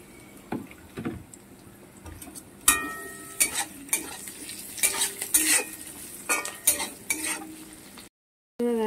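Capsicum frying in a pan for chilli paneer, with a soft sizzle under repeated scrapes and clinks of a spatula stirring against the metal, the strokes coming in irregular bursts.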